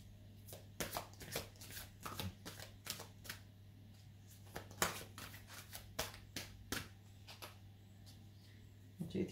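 Tarot cards being shuffled by hand, a rapid series of crisp riffling and slapping bursts repeating close up over a steady low hum, with no talk.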